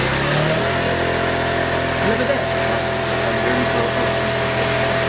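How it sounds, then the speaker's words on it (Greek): A motorcycle engine running on a hydrogen generator idles steadily and loudly close by, a continuous even hum throughout while someone speaks over it. "Αυτή τη στιγμή η μηχανή ξεκινάει με το υδρογόνο"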